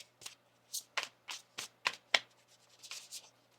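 A deck of tarot cards shuffled close up in about eight short, soft papery bursts separated by brief pauses, quiet and alone against a faint low hum.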